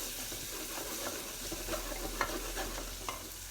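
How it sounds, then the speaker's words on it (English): Tomatoes and vegetables being stirred in a pot for pepper and tomato soup, giving a steady soft sizzle with scattered clinks and scrapes of the spoon, close and continuous, no talking. "give that a stir"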